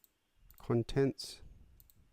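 A computer mouse click while operating Logic Pro X: one sharp, brief click near the middle, set against a short burst of voice-like sound and low background noise.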